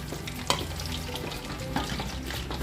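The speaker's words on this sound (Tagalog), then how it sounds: "By batch lang natin prituhin para hindi umapaw yung mantika natin." Chicken feet fry in a batch of hot oil, giving a steady close sizzle and crackle with a couple of sharper pops and light stirring noises over the bubbling.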